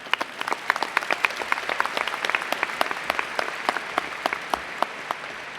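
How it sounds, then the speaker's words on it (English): Audience applause at a 2025 high school graduation ceremony for NISD Warren and Construction Careers High School, a steady wash of many hands clapping with sharp individual claps standing out, moderately loud and continuous without speech. "I believe that deserves a round of applause."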